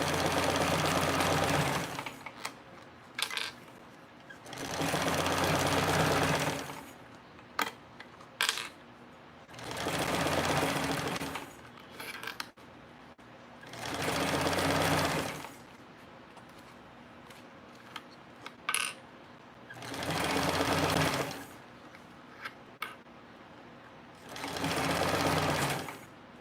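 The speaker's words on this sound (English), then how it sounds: "go a couple stitches and then back stitch" Sewing machine running in six separate bursts of stitching and back stitching, each lasting a couple of seconds with short quiet gaps and small clicks between, close and fairly soft.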